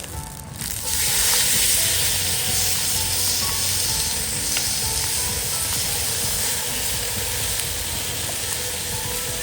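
Chuck steak browning in a hot camp oven at a bush cookout, a loud steady sizzle and hiss that starts after a short pause and carries on unbroken, close up with no talking.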